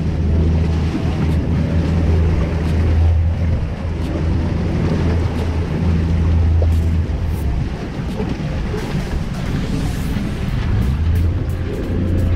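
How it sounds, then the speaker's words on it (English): Steady roar of a pontoon boat engine mixed with rushing water and wind buffeting the microphone, continuous and loud, with no voices. "Escort boat here coming up on us."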